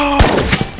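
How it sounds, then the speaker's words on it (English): Gunfire rings out in the VR shooter game Ghost of Tabor: one sharp, loud shot cracks out near the start, followed by a few fainter reports and echoes through the rest of the moment. "Yo, who's shooting?"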